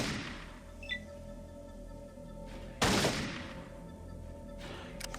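A single loud, sharp gunshot from the Fallout video game cracks out over a steady low hum and trails off in a decaying tail, followed near the end by a faint brief click.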